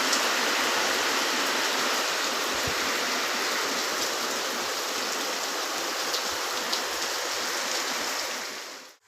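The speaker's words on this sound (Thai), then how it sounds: "พายุเข้าอีกแล้ว" Heavy rain pours down steadily during a storm, a dense, loud, unbroken hiss close by that continues throughout before cutting off at the very end.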